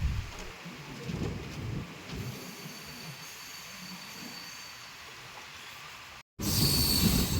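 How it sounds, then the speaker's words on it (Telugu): A MEMU train rumbles and hisses at Rajahmundry platform 4, a steady rolling noise that briefly cuts out before returning louder and harsher. "రాజమండ్రి 4వ ప్లాట్ఫామ్ మీదకి అయితే మన ట్రైన్ అయితే వచ్చింది"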